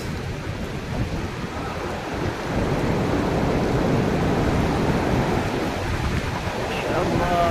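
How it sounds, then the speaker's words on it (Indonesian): Hailstorm with rain in Medina, a dense, steady roar of pelting hail and rain, near and loud, with a deep rumble of thunder under it and a voice speaking faintly near the end. "Madinah diguyur hujan es."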